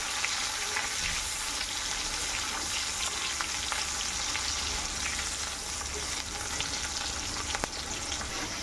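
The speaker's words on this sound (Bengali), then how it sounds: "তেলটাও গরম হয়ে গেছে, পেঁয়াজ তেজপাতা এগুলো দিয়ে দিব। এখন নাড়াচাড়া দিয়ে নেব, ভালো করে ভেজে নেব।" Sliced onions and bay leaves fry in hot oil for a dal tempering, giving a loud, continuous sizzle with occasional stirring scrapes, heard close up with no talking.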